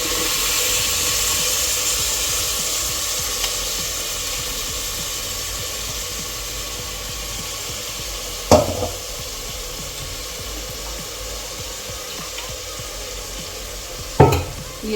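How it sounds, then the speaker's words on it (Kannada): Tomato and masala fry for peas rice, a steady close sizzle with soft stirring and two sharp knocks of a spoon against the pan. "ಇದನ್ನು ಸ್ವಲ್ಪ ಚೆನ್ನಾಗಿ ಫ್ರೈ ಮಾಡ್ಕೊಳ್ರಿ"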